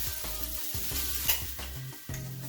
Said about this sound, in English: Give it a real good shake